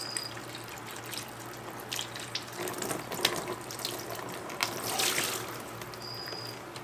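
Water pours steadily from a container into another container to release tadpoles, a soft continuous trickle and splash that is faint and close, with no talking.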